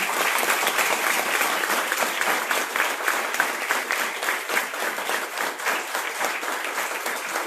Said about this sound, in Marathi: पुन्हा एकदा मानवंदना देऊया जरा जोरदार टाळ्या वाजवून